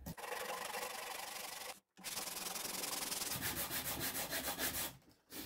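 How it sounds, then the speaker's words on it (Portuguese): Hand sanding wood with 50-grit sandpaper wrapped around a wooden block, a close, steady abrasive scraping in repeated strokes, briefly pausing, then quicker rhythmic back-and-forth rubs. "de lixa 50 com um apoiozinho de madeira e vou lixar esse excesso aqui"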